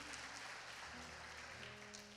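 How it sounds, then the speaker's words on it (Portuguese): A church congregation gives an applause for Jesus during a service, a faint, continuous patter of clapping with a low hum beneath it and no talk over it. "Você pode dar um aplauso a Jesus?"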